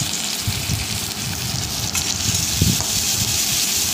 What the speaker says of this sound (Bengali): তেল দেওয়ার পরে তেলটা গরম হয়েছে, পেঁয়াজটা দিয়ে দিলাম